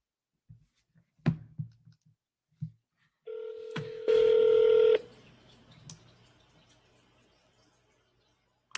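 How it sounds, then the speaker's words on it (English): A telephone number is dialed on a landline keypad: a few soft clicks, then a steady tone followed by a louder, brighter DTMF beep lasting about a second, close and clear in a quiet room. "Let's call this lady back one more time."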